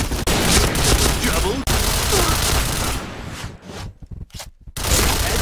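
Gunfire from the video game Point Blank: loud, dense bursts of rapid shots with booming impacts, breaking into choppier bursts near the end, then a renewed barrage.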